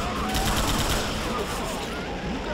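Rapid automatic gunfire from the video game Left 4 Dead 2 rattles loud and dense throughout the short burst, with voices faintly mixed underneath.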